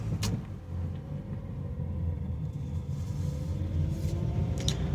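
A Honda Brio on a road test after suspension and steering rack repair, heard from inside as a steady low engine and road rumble, with a couple of brief clicks and no talk.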